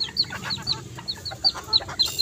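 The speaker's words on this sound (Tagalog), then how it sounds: "Itong manok sa aking kapatid to eh." Chickens cluck in short, repeated bursts close by, a busy irregular rhythm over faint background noise.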